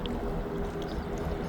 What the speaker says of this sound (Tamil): சலசலத்து கொண்டிருக்கின்ற இந்த ஒரு கடல் நீர் ஏரியா பாருங்கள்